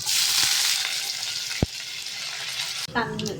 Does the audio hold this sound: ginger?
yes